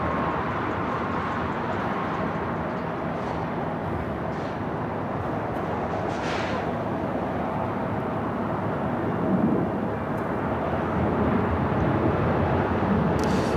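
American Airlines jet on its takeoff roll at LAX, a steady broadband engine roar that holds loud and continuous throughout, swelling slightly toward the end.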